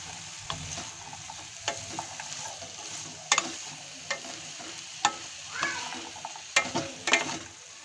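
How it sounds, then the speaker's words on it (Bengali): Potatoes stirred and fried with spices in a pan give a soft, steady sizzle, broken by repeated sharp clinks and scrapes of a spoon against the pan, close and fairly quiet, with no talking. "মশলার সঙ্গে আলুগুলো ভাবে মিলিয়ে কষিয়ে নেব।"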